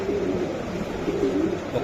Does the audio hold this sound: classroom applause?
no